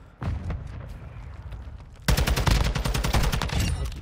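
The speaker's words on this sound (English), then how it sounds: "Look at him trying to shoot me through the wall." Rapid gunfire bursts in Call of Duty Modern Warfare II, a quieter stretch of shots followed by a loud, dense volley of crisp, fast cracks that continue to the end.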